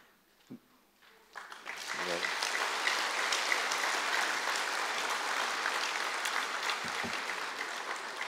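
Sustained applause from a large crowd, starting after a brief voice and continuing steadily, dense and even throughout.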